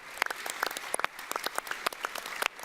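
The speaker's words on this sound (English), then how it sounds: "one more round of applause for Imago" Audience applause for a startup finalist at the Disrupt Berlin 2018 tech event: sparse, scattered claps from a moderate crowd, with individual sharp hand claps standing out over about three seconds, moderately distant and fairly quiet.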